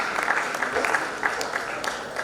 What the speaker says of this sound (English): Audience, keep clapping, keep applauding.